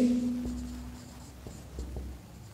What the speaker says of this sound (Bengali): এটা আমি লিখে দিচ্ছি যে কোনো